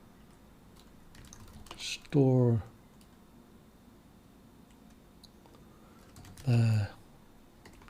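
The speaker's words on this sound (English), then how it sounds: "I'm typing" Someone types on a computer keyboard while writing C++ code for a Vulkan graphics engine. The key clicks are soft and quiet, and someone speaks briefly over them twice.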